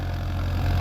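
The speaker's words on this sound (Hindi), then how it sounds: "ग्यारह टाइन के टीलर पर चलता हुआ ये देखिए जी" A Farmtrac 50 EPI tractor pulling an 11-tine tiller in a field gives off a steady, low, droning engine hum, continuous and even throughout a very short stretch.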